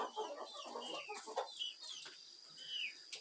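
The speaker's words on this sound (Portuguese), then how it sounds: "E as galinhas estão por aqui, fazendo zoada, querendo sair, estão presas." Hens shut inside their coop cluck and squawk restlessly, several close, overlapping calls rising and falling throughout, with no talking.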